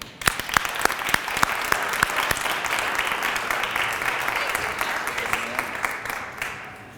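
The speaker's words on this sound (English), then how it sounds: "We'll begin with a warm welcome and round of applause for the Farmington Hills Mayor," A crowd at an outdoor groundbreaking event for the Farmington Area FiberCity network claps to welcome Farmington Hills Mayor Vicki Barnett; sharp individual claps stand out near the start before merging into sustained, lively applause that tapers off at the end.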